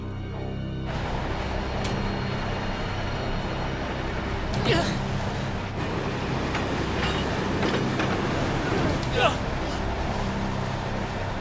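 Train rolling steadily along rails through a switch onto a side track, a continuous rumbling drone with occasional sharp squeals and clicks from the wheels, with voices talking over it.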